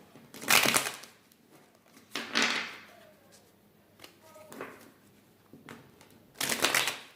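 Tarot cards being shuffled close by in several quick riffling bursts separated by pauses, with faint handling noises in between.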